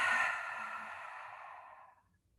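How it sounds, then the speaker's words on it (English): A single long cleansing breath pushed out through open lips at the close of a yin yoga class, a soft breathy whoosh that starts strong and fades slowly over two seconds, heard alone and close. "We'll inhale through the nose and open the lips to exhale"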